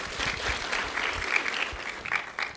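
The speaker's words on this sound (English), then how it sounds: "Let's give a round of applause for Miss Remington." Audience applauding a young contestant at a Little Cherokee Ambassadors competition, a steady round of hand claps from a crowd in a hall, moderately loud and continuous.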